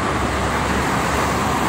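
Dense, loud roadway traffic on the Jakarta–Cikampek toll road, dominated by freight trucks, forms a continuous broadband roar of passing engines and tires with no talking.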